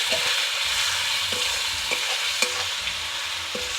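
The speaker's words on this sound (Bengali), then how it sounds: "খুব ভালো করে কষাতে হবে।" Chicken with cumin and coriander powder sautéing in a pan for a rezala, giving a loud, steady sizzle up close, punctuated by scattered spatula scrapes and light clinks against the pan.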